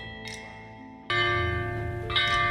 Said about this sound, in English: The bianzhong, a musical instrument consisting of a set of bronze bells